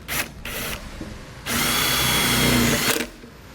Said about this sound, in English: We'll use a provided self-tapping screw to attach this to our sheet metal.